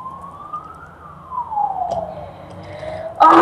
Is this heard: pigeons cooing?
no